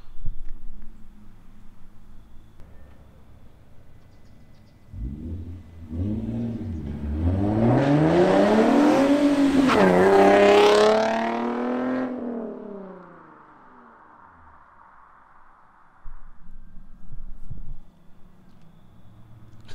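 A car with a Motordyne exhaust, cold air intake and dyno tuning revs up hard as it sweeps past, rising and falling in pitch, loud for a few seconds before fading into quiet, with a brief knock later.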